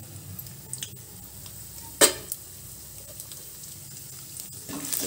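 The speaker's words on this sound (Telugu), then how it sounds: "ఇది బాగా వేయించుకుందాము. మినపప్పు శనగపప్పు వేగాయండి." Chana dal and urad dal frying in a pan give a low, steady sizzle with a sharp clatter near the middle and a few small clicks, fairly quiet and without talk.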